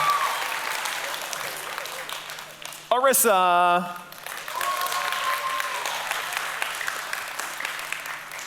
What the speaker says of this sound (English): so let's cheer for him super loud